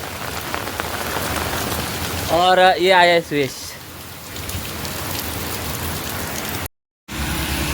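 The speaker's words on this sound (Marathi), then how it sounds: "पाऊस पडतोय" Steady rain patters on surfaces at Parshuram Ghat on a wet day, a constant hiss running throughout, with someone talking briefly over it and a short tonal burst partway through.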